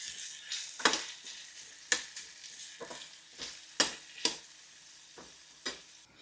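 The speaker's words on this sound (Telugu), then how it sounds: "ముందుగా నూనె వేడెక్కిన తర్వాత మనం కట్ చేసి పెట్టుకున్న ఈ ఉల్లిపాయలు వేసుకోవాలండి." Chopped onions fry in hot oil for an onion chutney, giving a soft, steady sizzle broken by sharp scraping strokes of a spoon stirring the pan every second or so.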